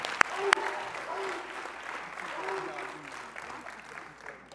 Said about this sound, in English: Another round of applause for Tina Lewandowski.